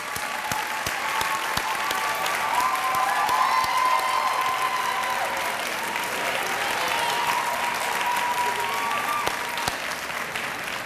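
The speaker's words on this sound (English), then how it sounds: "give you well-deserving rounds of applause" Audience at a school graduation ceremony applauds the faculty, a steady sustained round of clapping from a large crowd throughout, with faint voices mixed in.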